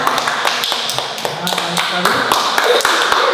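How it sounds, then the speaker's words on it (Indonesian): Classroom of students clapping for the first group during a micro-teaching lesson, sharp close hand claps in an uneven patter, with some voices underneath. "beri tepuk tangan untuk kelompok pertama"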